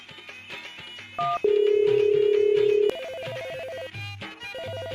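A telephone rings during a phone call, electronic ringtone tones repeating in short bursts with a long sustained buzzing tone in the middle, close and clear, with no talking.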